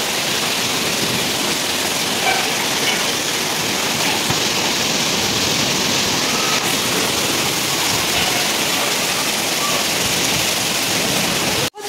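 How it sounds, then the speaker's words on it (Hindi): Heavy winter rain in Roorkee pours down steadily, a dense, loud hiss that fills the whole clip without a break, ending abruptly. "तेज़ बारिश होने लगी है"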